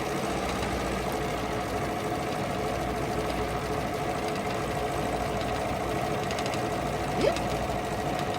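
A Bernina sewing machine stitching with a circular embroidery attachment #83 and couching foot #21, a steady continuous mechanical hum and rapid needle chatter that holds at an even level, with a brief faint squeak near the end.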